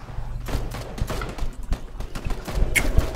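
Rapid bursts of gunfire in PUBG, sharp cracks and thumps scattered irregularly across the span, fairly close and loud, with footstep-like knocks between the shots and no talking.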